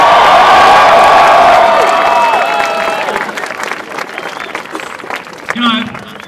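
A young university crowd in Wisconsin cheers and applauds loudly, with dense clapping and whoops that gradually thin out, leaving scattered claps and a few shouts.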